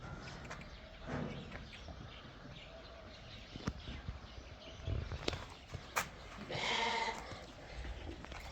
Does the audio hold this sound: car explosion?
no